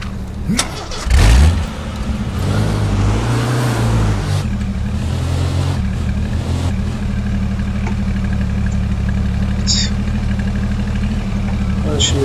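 A pickup truck engine in the game H1Z1 runs and revs steadily close by, with a rough burst early on, while voices talk over it.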